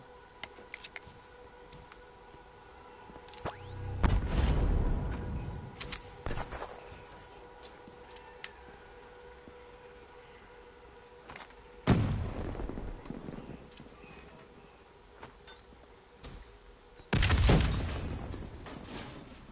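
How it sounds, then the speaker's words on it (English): Explosions in the video game Call of Duty: Black Ops 3, heard as three loud, booming blasts spaced several seconds apart, each with a rumbling tail, over a steady low game ambience. "The explosion blocked our path."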